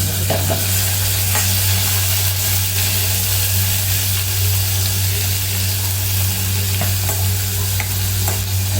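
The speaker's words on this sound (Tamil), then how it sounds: "இதுதான் எண்ணெயில் பொரியுது." Onion and tomato sizzle loudly in hot oil with cinnamon for a vegetable biryani, giving a dense, continuous frying hiss with brisk stirring scrapes over a low steady hum.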